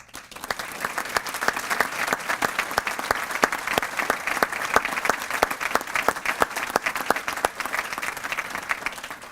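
Applause from an audience at the Ulster Chamber Awards Dinner, a steady wash of many hands clapping close and loud, dense and sustained for the whole stretch with no talk over it.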